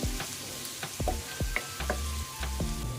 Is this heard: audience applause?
no